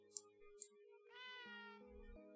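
A cat meowing in the video game Hidden Paws Mystery: two short chirpy mews followed by a longer drawn-out meow, clear and close over a quiet musical backdrop.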